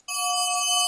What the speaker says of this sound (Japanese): 気になる女の子から着信があったと